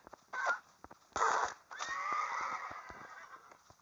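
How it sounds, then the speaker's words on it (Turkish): A horse in the Minecraft video game gives a couple of short whinnies and then a longer, drawn-out neigh, clear and close with nothing else behind it. "Neyse at kesiyorum."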